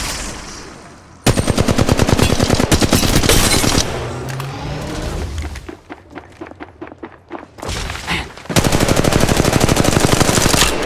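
Rapid automatic gunfire from a squad-based shooter game, loud dense bursts of machine-gun fire with brief gaps and scattered thuds, resuming in long sustained volleys near the end.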